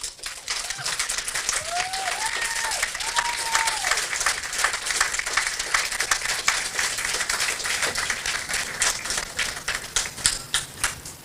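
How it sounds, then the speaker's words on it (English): Dense audience applause at the 2022 Barbados Fire Service passing out parade, sustained crisp clapping with a few whistles early on, swelling in irregular bursts toward the end. "please give your connection a serious round of applause"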